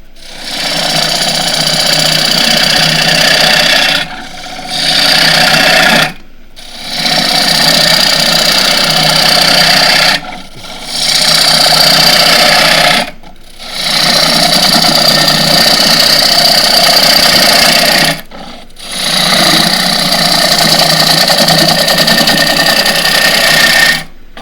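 An asymmetric gouge cuts a nine-sided wooden plate spinning on a lathe, giving loud, continuous rasping passes that stop and restart about six times with short silent breaks between them.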